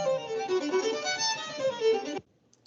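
A violin plays a short, wavering bowed melody for about two seconds, then stops abruptly into near silence.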